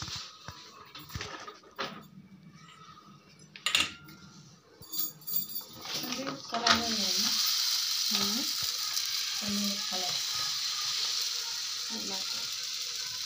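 Bobbatlu, flatbreads stuffed with toor dal filling, frying in a pan: a loud, steady sizzle rises and holds after a few clinks and scrapes of a utensil, with a voice speaking briefly.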